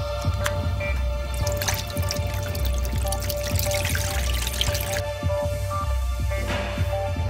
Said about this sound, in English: Drain the tank as much as possible.